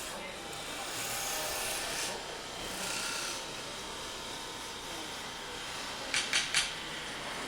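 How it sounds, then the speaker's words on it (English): Bowl gouges cutting a wooden bowl turning on a lathe at a woodworking competition expo, a rough rasping scrape that rises and fades in a few passes over a steady background hum, with brief sharp clicks near the end. "mainly they're using bowl gouges to do the bowl"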